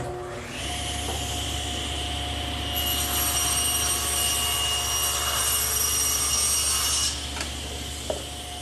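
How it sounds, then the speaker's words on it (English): A table saw, its blade set about a quarter inch deep and three quarters of an inch from the fence, cuts a tongue in wood for a breadboard edge on a bedside table, a loud steady whine that rises into a harsher cutting roar, then settles. "I've set up the saw 3/4 of an inch away from the fence and about 1/4 of an inch deep."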